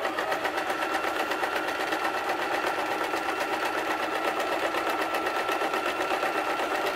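Steady, fast stitching from a sewing machine running the folded edge of a Viking-style hood, a continuous close whirring with even rhythm and no pauses.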